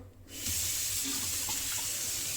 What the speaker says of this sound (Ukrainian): Вмикаємо воду.